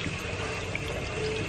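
Water pours steadily while conditioner is rinsed out of hair, a continuous close splashing stream with no break.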